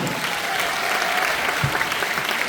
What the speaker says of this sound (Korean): 우리 충북 국회의원들 박수 한번 보내주시죠, 여러분.